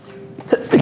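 A single sharp human sneeze, close and fairly loud, rising after a brief breathy intake and ending with a burst of noise.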